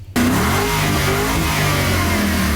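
A car engine revs hard during a Great Lakes charity rally scavenger hunt through Rhinelander, starting abruptly and holding a loud, steady roar with shifting pitch right up close.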